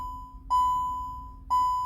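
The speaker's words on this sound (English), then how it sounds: "It's just the battery turning on. A little beep for a few times." Two clear electronic beeps about a second apart from a Kia Stonic head unit as the battery powers on, each a steady sustained tone, fairly close over a faint low background hum.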